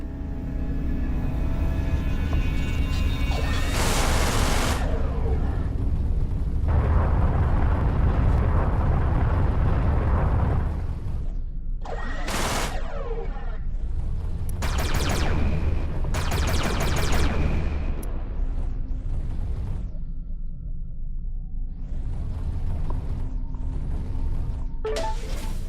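A ship's guns in the space shooter Everspace fire on a mineable asteroid for fuel, heard as continuous heavy rumbling blasts with bursts of sharp crackling impacts over a loud, steady engine drone.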